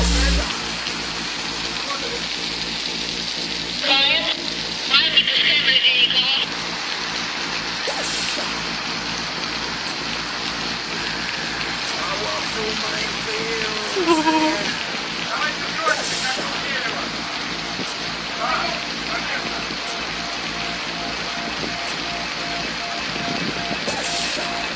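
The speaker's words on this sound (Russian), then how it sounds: "Вот он этот злосчастный дождь." Steady rain patters and hisses on a surface throughout, with occasional brief knocks and a faint voice now and then.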